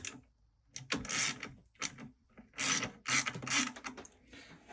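A wrench or ratchet loosens a nut on a battery terminal lug of a 12V DIY battery kit, heard as several quiet, close bursts of clicking and metallic ratcheting with short pauses between them.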